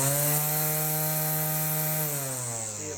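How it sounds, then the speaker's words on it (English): A Craftsman battery-powered string trimmer runs at a steady, close, loud whine that holds even for a few seconds before its pitch sags slightly near the end, with no talking. "here I'll put the battery on the string trimmer"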